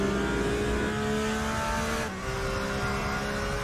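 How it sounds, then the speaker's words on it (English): Porsche 911 race car at full speed in a racing video game at Mount Panorama, a loud sustained high engine whine that dips briefly midway before resuming. "Victor Paz continuing to push this 911 to its absolute limit."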